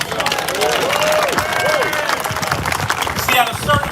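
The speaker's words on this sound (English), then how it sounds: "Give them a round of applause." A rally crowd applauds the last two living survivors of the Tulsa race massacre at a Juneteenth celebration, steady clapping with cheering, shouts and a voice or two rising above it.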